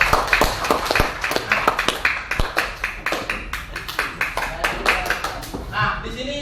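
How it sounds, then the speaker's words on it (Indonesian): Children clap together in a classroom, producing a quick series of sharp, close hand claps in a loose rhythmic pattern that continues throughout. "Kasih tepuk tangan Siva."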